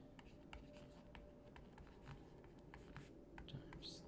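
A pen scratches out math equations by hand in quick, light strokes, close and quiet, with faint rustles between marks.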